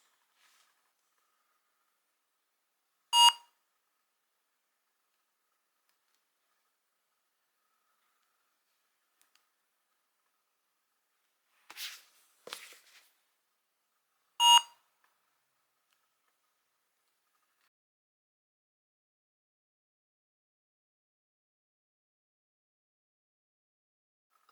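A phone scanning app gives short, bright beeps as witchcraft books are scanned in, with a single beep, then a pair of quick beeps, then another single beep, spaced apart over near silence.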